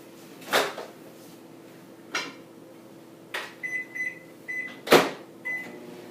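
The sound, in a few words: microwave oven running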